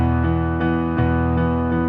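Piano plays the intro of a song, a steady repeated chord pattern in even eighth notes with a sustained bass, clear and close with no talking.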